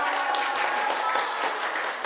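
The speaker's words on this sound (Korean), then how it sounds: "박수 부탁드립니다" Applause from a gathering of elementary school students during a visit with the Daegu mayor, a steady even patter of clapping sustained at moderate volume for about two seconds.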